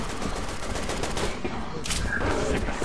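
Dense shotgun fire in Resident Evil 6 booms in rapid close-range bursts over a loud, cluttered battle din with little pause between shots.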